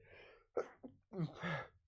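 A single close sneeze with a sharp intake of breath followed by an explosive burst, isolated and fairly quiet.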